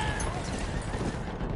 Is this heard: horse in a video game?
yes